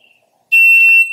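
A single loud electronic start beep from an MDT Training shot timer, steady and high-pitched, starts abruptly after a short silence and holds for about half a second before tapering.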